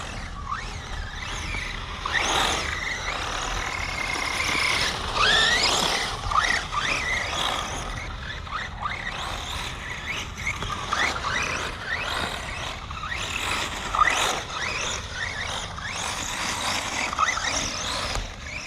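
A Proline MT 4x4 RC truck drives around a bash spot attempting donuts, its faint electric whine and tire scrabble coming and going at moderate distance amid outdoor background noise.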